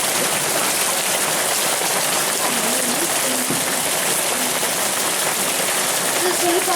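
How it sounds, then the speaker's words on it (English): Heavy rain mixed with hail pours down steadily during a thunderstorm, a dense, loud hiss of drops hitting surfaces close by, with faint voices murmuring under the downpour. "It's still freaking hailing and raining."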